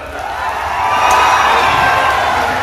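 A crowd at a stage event in Sonpur, Bihar, erupts in loud cheering and whooping with a broad roar of voices that swells and stays strong throughout, clapping blended into the din.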